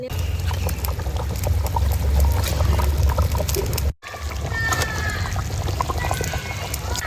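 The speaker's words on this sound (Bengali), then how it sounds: "এই আলু দিয়ে দিচ্ছি, এখন জলটা দিয়ে দেবো" Water poured into a pot of chicken and potato curry, a trickling splash with clatter from the pot, broken by a short gap and then continuing with a faint voice.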